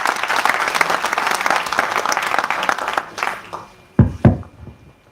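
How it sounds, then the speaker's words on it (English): A large audience gives a chief guest a loud, sustained round of applause at a technology session in Greater Noida; dense clapping fills the room, then tapers off into a few scattered, separate claps. "A huge round of applause for sir."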